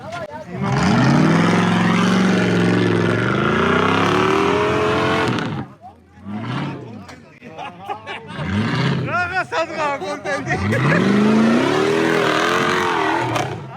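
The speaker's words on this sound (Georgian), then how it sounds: "მოდის შემდეგი მანქანა" An off-road vehicle engine, seemingly a Jeep Wrangler, revs loudly at the Surebi Off-Road Festival 2026 in two long rising roars separated by a quieter stretch with voices and sputtering.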